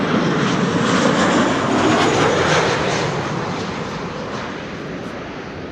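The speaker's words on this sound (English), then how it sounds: "1032 arriving from Chester. That's a 737-800." Boeing 737-800 jet arriving at Amsterdam Schiphol Airport, a loud broadband engine roar that holds steady and then slowly fades as the aircraft passes, heard from nearby at the airfield.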